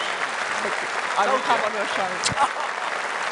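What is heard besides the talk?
crowd applause at political rally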